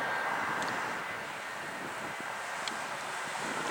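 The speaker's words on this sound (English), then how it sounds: "So these airliners are on one of the 8 runways" Airliners, including a Delta MD-80 or MD-90, rumble on a runway at Atlanta airport, a distant steady engine roar mixed with wind buffeting the microphone.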